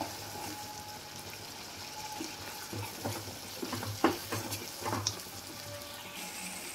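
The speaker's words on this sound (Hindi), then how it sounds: "इसको अच्छे से हम भून लेंगे।" Spice masala for a smoky dahi paneer roasts in oil in a pan, a soft low sizzle with intermittent scraping stirs and a few sharper spatula knocks, fairly faint and without speech.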